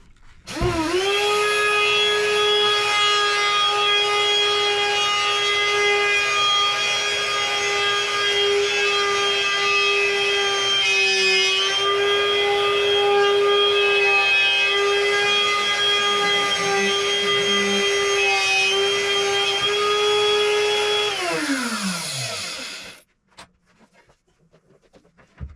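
Wood router spinning at steady high speed while cutting around a tree stump table, a loud continuous whine holding one pitch for about twenty seconds before winding down and stopping.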